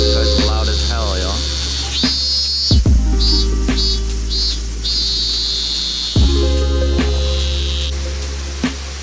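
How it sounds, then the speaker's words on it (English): A loud cicada buzzes near a gorge in Japan, a steady shrill drone with a few pulsing surges over a low background hum. "You hear that cicada? Oh my god,"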